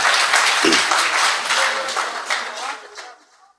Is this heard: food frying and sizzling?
no